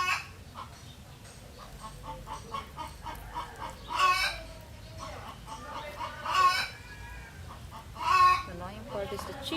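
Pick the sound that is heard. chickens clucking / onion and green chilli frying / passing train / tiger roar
chickens clucking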